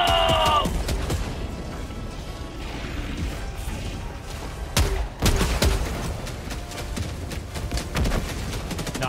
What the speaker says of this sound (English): Out for this autocannon. Get some!